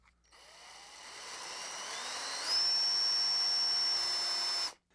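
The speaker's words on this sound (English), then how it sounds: "And we'll just ease up a little bit as you come through the wood." A power drill boring a hole through wood, a steady high whine that rises in pitch as the bit spins up and continues evenly for several seconds before cutting off abruptly.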